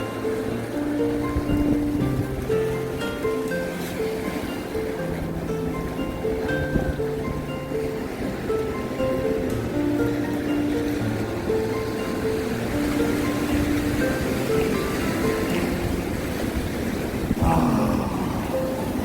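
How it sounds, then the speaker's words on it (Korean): Strong sea waves crash on the long sandy shore of Songjeong beach in Gijang, making a loud, continuous roar with faint tonal sounds mixed in. "거센 파도입니다. 거센 파도. 힘으로 칩니다."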